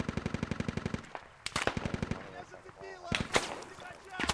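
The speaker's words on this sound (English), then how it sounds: "There's someone out here shooting." Bursts of automatic gunfire in the military shooter Squad: rapid rhythmic rounds at the start, then scattered louder shots and distant reports, with voices talking over the firefight.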